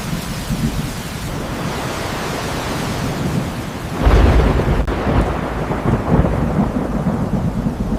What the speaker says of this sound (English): The ground shakes with final thunder.